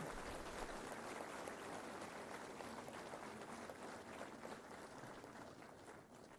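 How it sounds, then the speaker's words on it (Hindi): An audience gives steady, continuous applause at the MSME Day 2026 celebrations attended by the Vice President, after a coir artwork is presented as a gift. The clapping sounds faint and distant, with no voices over it. "इस खूबसूरत कलाकृति के लिए जोरदार तालियां।"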